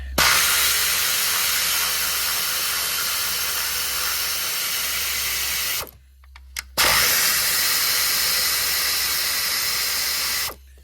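An air-powered pneumatic tool used for spark plug work on a 2017 Chevy Traverse runs in two loud, steady hissing bursts, each several seconds long, separated by a brief pause, close and without talk.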